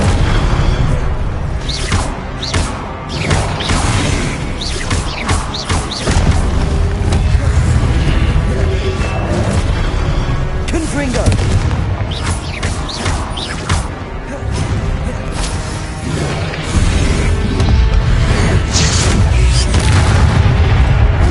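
Spell blasts from the Confringo and Incendio curses in Hogwarts Legacy erupt one after another, making a loud, continuous barrage of booms, crashes and whooshing bursts with hardly any pause.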